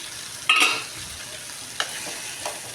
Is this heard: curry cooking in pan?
yes